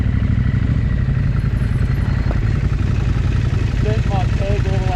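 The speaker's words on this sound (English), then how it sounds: "12 kilometers an hour now without being on the clutch, and it's not stalling" A KTM 790 Adventure R motorcycle rolls slowly at about 12 km/h with the clutch released, its engine holding a steady, loud low drone with rattling clatter and no stalling.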